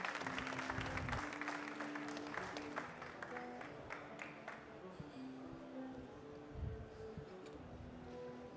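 A crowd applauds barista Charlotte Malaval at the World Barista Championship France 2016 final, dense clapping that swells early and then thins and fades, with a voice and faint tonal sounds underneath.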